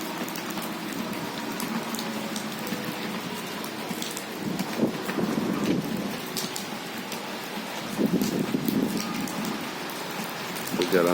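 Heavy rain and strong wind roaring steadily, a dense wash with gusty surges that rise louder around the middle and near the end, wind-buffeted close to the microphone.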